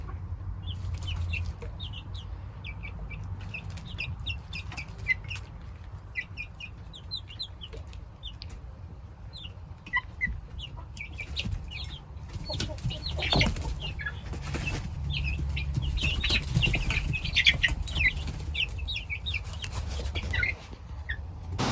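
Young chickens and a rooster clucking and chirping on a farm, busy overlapping calls near and far with occasional wing flaps and rustling.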